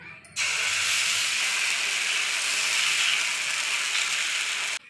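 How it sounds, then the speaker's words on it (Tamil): Dosa batter poured onto a small hot griddle sizzles in a loud, steady broadband hiss that starts abruptly and holds for about four and a half seconds before cutting off. "பாருங்கள் தோசை ஊற்றிக்கலாங்க."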